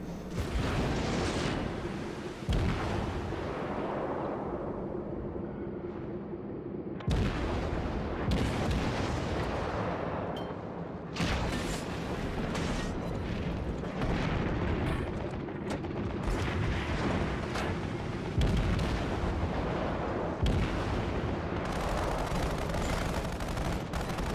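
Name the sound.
naval cruiser guns firing, from video game World of Warships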